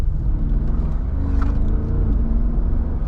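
A deep, loud engine rumble with rising harmonic tones as the 5.5-liter twin-turbo V8 of a Mercedes G63 wagon accelerates, heard close from inside the car.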